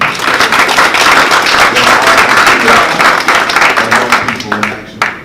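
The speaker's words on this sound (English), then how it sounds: "Can we just give them a hand clap?" An audience at a school board candidate forum claps its hands after a color guard presentation, a dense, sustained burst of applause that thins and tapers toward the end.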